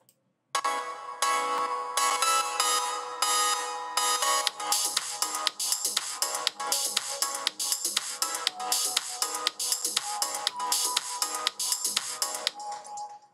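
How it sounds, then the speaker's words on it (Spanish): A mixed music track plays back through a cellphone speaker, sounding thin and tinny with a steady rhythmic beat. It runs continuously after a moment of silence at the start, with no talking. "aquí voy a reproducir ya el audio directamente del celular y vamos a poder escuchar"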